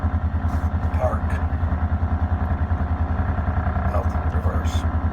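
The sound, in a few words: Polaris Ranger 1000 UTV engine running while shifting gears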